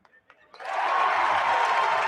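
Basketball arena crowd at a Washington State versus Portland men's game erupts into loud, sustained cheering after a made free throw, following a brief faint murmur at the start.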